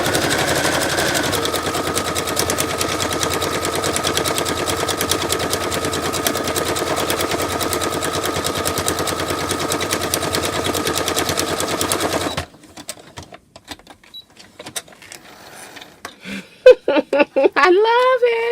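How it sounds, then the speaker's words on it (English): A sewing machine stitches rapidly through corrugated cardstock, a steady loud mechanical rattle lasting about twelve seconds before stopping, followed by faint handling noises and someone talking. "the sewing machine, you guys, it stitches beautifully on corrugated cardstock"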